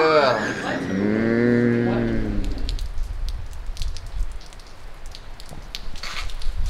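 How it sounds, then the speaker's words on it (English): Steady rain hisses down on a rainy evening along the Colorado Trail during a bikepacking trip, following a loud cow's moo at the start and continuing as an even, close wash of noise. "So the weather has turned and it's pretty rainy."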